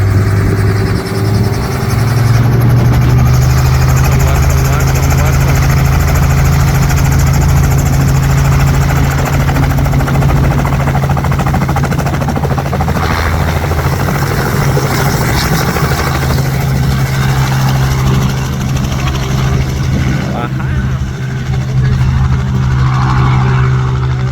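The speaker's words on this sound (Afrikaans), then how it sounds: "Ek kom dit voel het om te vlieg met die helikopter op." A helicopter's engine and rotor run steadily and loudly from inside the cabin, a constant heavy drone with a low hum that holds unbroken for over twenty seconds, with no voices heard.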